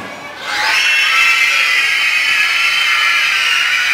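A crowd of schoolchildren at a student council election screams and cheers together, a sustained high-pitched roar that swells quickly and holds loud throughout.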